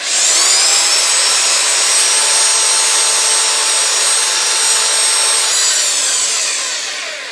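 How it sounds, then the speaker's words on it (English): Steady, loud abrasive hiss of sandpaper against wood spinning on a lathe, holding constant for several seconds with a faint motor whine underneath, then easing off at the end. "I need to finish sanding this. So I go through all the grits."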